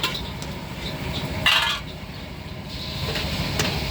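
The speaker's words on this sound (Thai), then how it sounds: "นั่นก็ผัดไม่หยุดนะ" Metal utensils clatter and scrape steadily against a pan at a Thai spicy salad (yam) stall, continuous stir-frying with clinks and a brighter burst of scraping partway through, over a busy background din.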